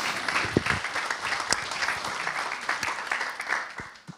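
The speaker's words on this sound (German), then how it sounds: "Applaus an die beiden." Applause from a seminar audience at a German finance seminar; a short burst of moderate clapping from a modest-sized room, uneven and fairly close.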